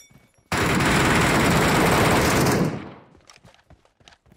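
A sustained burst of automatic gunfire roars in PUBG Metro Royale, about two seconds of loud, close, continuous shots that cut off abruptly, followed by faint scattered sounds.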